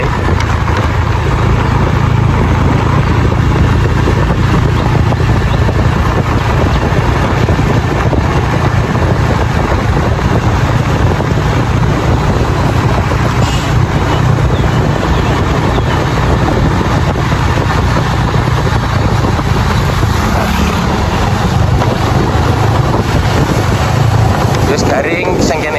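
A boat motor drones steadily and loudly throughout, a constant low rumble mixed with wind buffeting on the microphone.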